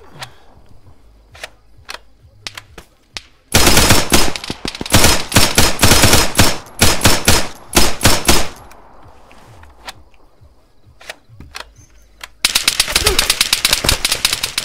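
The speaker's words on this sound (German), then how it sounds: "Hier wird geschossen." Gunfire in the Arma III military shooter game: sparse single shots, then loud rapid bursts of automatic fire, a quieter stretch of scattered shots, and a final sustained volley, sharp and close.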